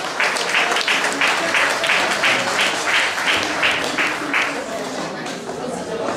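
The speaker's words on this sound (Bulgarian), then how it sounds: "Аплодисменти още веднъж за него." Audience applauding at a formal ceremony marking 120 years of cycling in Troyan, Bulgaria: sustained clapping from a hall crowd with rhythmic bursts of claps, slowly fading toward the end.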